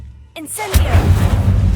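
Incendio fire spell cast in Hogwarts Legacy on PC: a short magical flick at the start, then a loud, sudden whooshing burst of flame that settles into a sustained roaring rumble.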